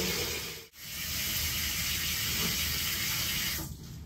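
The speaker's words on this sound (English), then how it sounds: "I'm gonna turn the water on." Steady hissing rush of water running from a faucet, continuous and fairly close, with a brief dip near the start.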